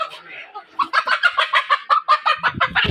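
Layer chickens cluck and squawk loudly and close while being caught for vaccination, a rapid run of agitated clucks followed by scuffling handling noise.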